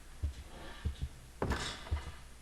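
A locked door rattling as the player walks into it in P.T. on PS4, a series of soft, dull knocks and thunks at irregular intervals, fairly quiet, with one brighter clattering rattle in the middle.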